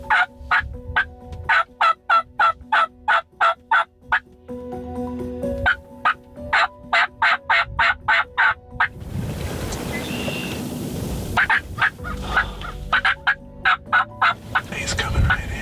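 A wild turkey gobbles loudly and repeatedly in a New York spring hunting setting, with rapid rattling gobbles in quick bursts, then a stretch of rustling, and more gobbles, heard alone without talk.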